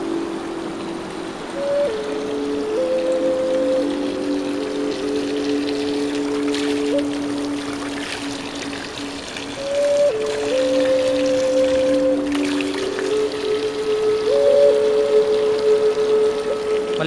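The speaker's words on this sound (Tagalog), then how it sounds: "Sa kanang bahagi ng daan na to, merong bukal." Water runs steadily from a clear roadside spring, a loud, continuous close pouring and splashing with shifting tonal gurgles.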